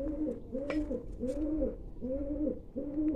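Pigeons coo on a rooftop loft, a rhythmic series of about six soft, rolling coos repeating roughly every half second, close and clear over faint background noise.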